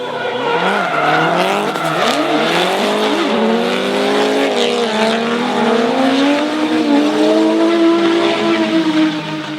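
Drift cars in a D1NZ championship chase run at Taupo, including a Nissan R34, scream at high revs with engines rising and falling and tires squealing, loud and continuous throughout.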